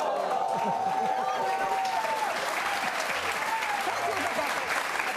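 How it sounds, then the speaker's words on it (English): Studio audience applause on a talk show, a sustained wash of crowd clapping with a faint tonal line and some speech running underneath, steady and loud throughout. "So, thank you for the applause."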